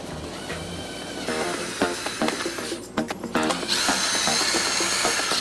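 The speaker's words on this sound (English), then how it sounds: "We're gonna put some little bitty screws in there." A power drill drives small screws into a CNC-cut sign, whirring in short bursts with rising and falling motor pitch, then running steadily at the end, close and loud.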